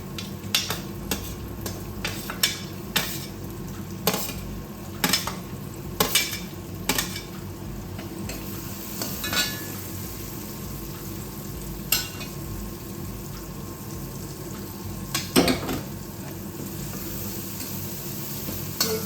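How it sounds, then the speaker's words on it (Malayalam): Onion, shallot and green chillies sizzle steadily in a pan while a spoon stirs them, with frequent sharp clinks and scrapes against the metal over the frying hiss. "ഉള്ളിയുടെ ഒരു കളർ ചെറുതായിട്ടൊന്ന് മാറട്ടെ. ഒരു 10-20 സെക്കൻഡ് ഒന്ന് ഇളക്കാൻ മതി."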